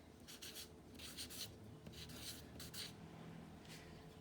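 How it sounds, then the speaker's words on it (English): A pencil writes a word on paper in a series of quiet, dry scratching strokes, several short bursts of rasping with brief pauses between them, close and alone with no talk. "I'm going to write the word longer here first"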